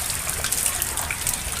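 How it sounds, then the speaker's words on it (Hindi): Heavy monsoon rain pouring in Gurgaon, a dense, steady hiss of falling water with scattered splashes and drips close by. "बाकी अभी बारिश ना बंद नहीं हुई है, बहुत तेज आ रही है।"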